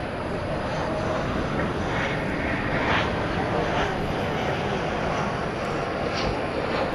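A Volaris Airbus A320neo jet at DFW Airport at night gives a continuous, even engine roar that stays at a constant level throughout.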